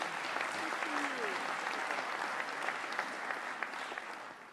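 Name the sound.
audience applause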